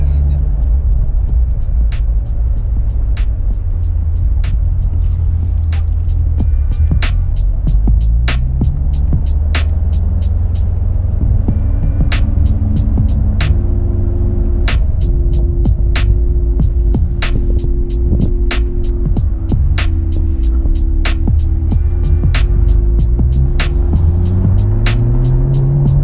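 A 2017 Corvette Grand Sport driven over a rough road, with a constant loud low rumble and engine drone shifting through gear changes, while repeated sharp clicks and ticks sound above it; a person talks briefly.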